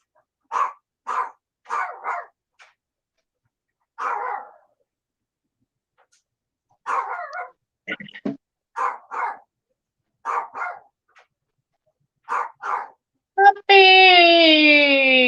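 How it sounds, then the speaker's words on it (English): A puppy gives a series of short, sharp barks and yips in separated bursts at close range, with a few brief gaps of silence, then a sustained tonal sound at the end. "Puppy barking."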